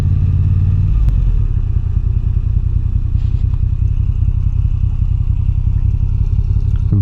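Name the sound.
2022 Moto Guzzi V9 Bobber motorcycle riding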